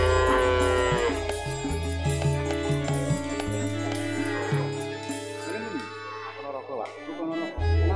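Cattle, including Brahman and Simmental, low loudly and repeatedly at the Plaosan cattle market in Magetan, East Java. Long, drawn-out moos overlap near the listener, with traders talking in the background.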